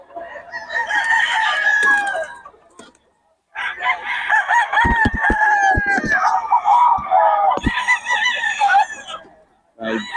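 A Sweater-breed gamefowl rooster crows loudly and close, two long drawn-out calls separated by a brief quiet gap, with clucking and faint sharp knocks heard through the second crow.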